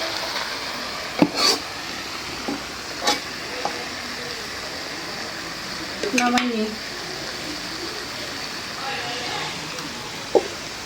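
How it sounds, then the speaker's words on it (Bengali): A hilsa fish head fries with potatoes and spices while being stirred, giving a steady close sizzle broken by scraping and clinking strokes, with faint voices at times. "মাছের মাথা দিয়ে বটবুটি আলু দিয়ে ভাজলাম মানে রান্নাই করলাম"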